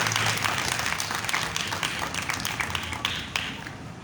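A church congregation applauding, dense and sustained clapping from a crowd that fills the room, with a few sharper claps standing out as it slowly thins toward the end.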